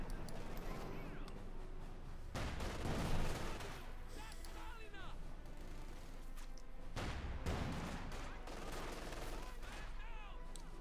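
Machine gun and artillery fire in a Company of Heroes 2 battle, with conscripts, grenadiers and flamethrower engineers; dense overlapping gunfire and heavy booming blasts roll on continuously, swelling loudest around the third and eighth seconds.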